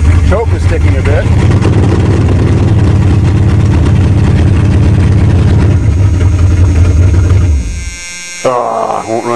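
A farm engine runs roughly just after a cold start with a sticking choke, a loud low steady drone that holds for about seven seconds before dying away, followed by a brief sputter and voice near the end.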